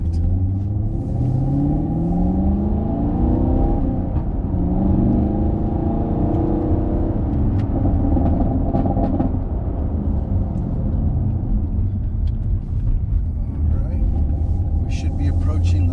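A car lapping a race track, its engine droning steadily with rising and falling pitch as it accelerates and eases off through corners, loud and continuous throughout while someone talks over it.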